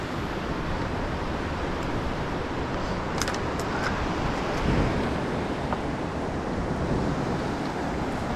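The river at Ohiopyle running high at nearly six feet: a steady, broad rushing wash of flowing water, constant and fairly close, with no voices over it.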